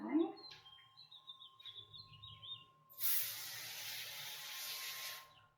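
A hand spray bottle mists houseplants to treat spider mites, a sustained hissing spray lasting a few seconds after quieter handling sounds and faint birdsong in the background.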